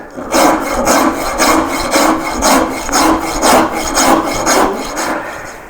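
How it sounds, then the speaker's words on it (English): Steady back-and-forth scraping of a coarse hand rasp on a wooden sculpture, about a dozen rhythmic strokes, close and fairly loud, with no talking. "I'm trying to avoid power tools and just enjoy this process of rasping and bringing out the grain"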